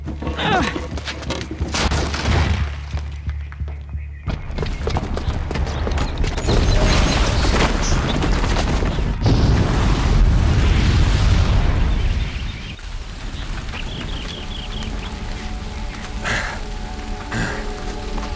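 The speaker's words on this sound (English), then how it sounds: "the booby trap on the bomb downstairs is gonna get set off" A booby-trapped bomb blows up in the video game Horizon Zero Dawn, a long, loud rumbling explosion with crackling debris and a roaring wash that swells and then fades into a lower continuous rumble.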